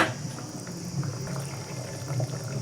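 A pot of okra tamarind curry simmers with a steady bubbling, low gurgling and soft pops running continuously, close by, with no voices.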